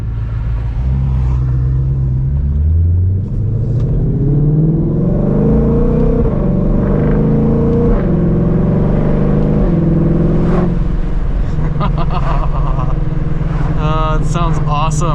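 Ford Mustang Shelby GT500 V8 engine revving with a deep rumbling idle, rising revs and repeated throttle blips, loud and close, while a person talks over it throughout.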